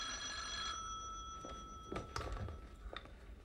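Telephone bell ringing in a home in an Egyptian drama series, a steady electric ring sounding for about a second before stopping, followed by scattered knocks and household noises.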